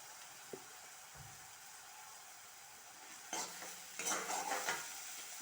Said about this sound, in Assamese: অলপ তেল দি পেলাই এইখিনি পিঁয়াজখিনি অলপ ভাজি লৈছোঁ।